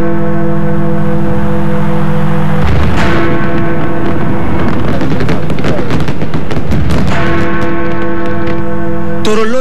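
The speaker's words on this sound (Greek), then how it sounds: "εντυπωσιακά πυροτεχνήματα πάνω από τον Τάμεση ξεσηκώνουν εκατοντάδες χιλιάδες Βρετανούς" New Year fireworks over the Thames in London rumble and crack loudly for several seconds. They sit under a sustained tonal bed of music or siren-like sound.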